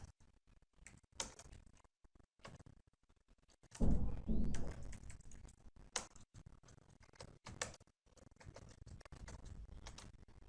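Computer keyboard typing code, with bursts of quick close key clicks in an irregular rhythm broken by short pauses and a louder rustling thump partway through.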